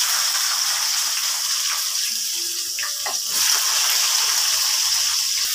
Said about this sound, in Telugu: ఫస్ట్ ఉల్లిగడ్డలు వేసుకోవాలి.